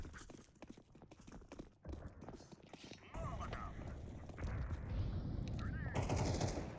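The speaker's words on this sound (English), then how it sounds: "Okay, he's shooting at somebody," Gunfire in a video game, with dense rapid shots and clattering bursts growing louder toward the end amid mechanical game noise, and a voice talking over it.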